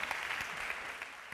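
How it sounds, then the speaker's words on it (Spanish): Brief, steady applause from a workshop audience on creative education and parenting, a soft, even wash of clapping hands at a moderate distance with no voices over it. "Muy bonito, un aplauso."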